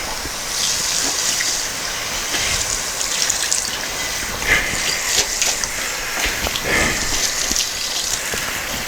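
Water from a tap splashes and hisses steadily onto a hot frying pan just used for cooking eggs with butter, a close, continuous rinsing spray with small sizzles and gurgles, alone without talk.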